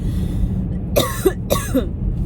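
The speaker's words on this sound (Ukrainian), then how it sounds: "ну вот что это за кашель?" Two harsh coughs close together, near and fairly loud, over a low background rumble.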